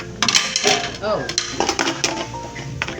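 Plates and cutlery clatter during a family meal, with repeated clinks and scrapes of dishes and silverware close by, mixed with people talking.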